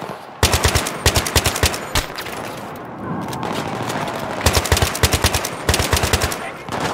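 Vehicle-mounted machine gun turrets fire in the video game Battlefield 3, loud rapid bursts of automatic gunfire separated by short pauses, with rumbling battle noise between them.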